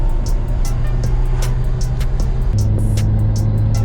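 A V8 engine in an Eleanor car runs steadily and loudly close by, with a low rumbling drone and a slight shift in pitch partway through.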